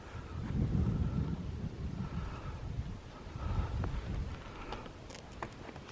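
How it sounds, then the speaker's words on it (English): Wind gusting across the microphone on the exposed summit of Rocky Top on the Appalachian Trail, a low rumbling buffeting that swells and fades, with faint rustling and no speech. "There's the wind."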